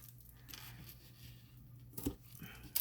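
Scissors trim a small piece of paper card for a stamped sunflower craft, giving a faint snip or two in a quiet room.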